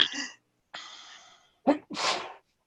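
Sneezing in a morning show studio, a sharp close sneeze preceded by inhaled gasps and breaths, with short bursts of nearby sound around it.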